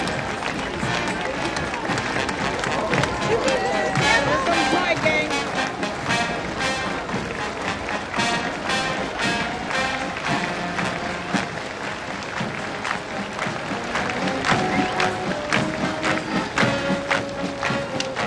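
Excited crowd at a VE-Day 50th anniversary march, a dense continuous roar of clapping, cheering and voices held at a steady loud level throughout, with no single voice standing out.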